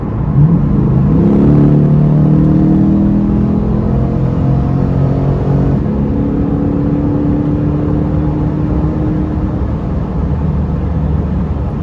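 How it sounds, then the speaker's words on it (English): A 2022 Chevrolet Corvette C8 Stingray accelerating, its engine a steady, loud rumbling drone with a rising then falling pitch as the car pulls away during a race against a Mustang. "Of course, a Corvette has to race a Mustang."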